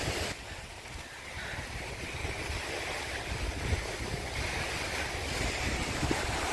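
Ocean waves wash onto a beach in Cilacap, Indonesia, a steady broadband roar of surf with wind buffeting the microphone and no talk.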